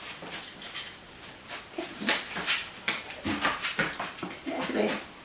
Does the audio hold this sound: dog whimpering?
yes